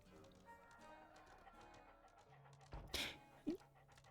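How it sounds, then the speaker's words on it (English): Toby the dog in Sherlock Holmes: The Devil's Daughter gives a short, sharp bark followed moments later by a brief whine, both close and clear over a quiet ambient game backdrop. "That's a good dog."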